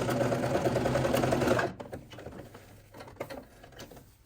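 A sewing machine runs steadily for about a second and a half, sewing a short two-centimetre pleat into fabric. Then it stops and quieter rustling and handling of the cloth follow.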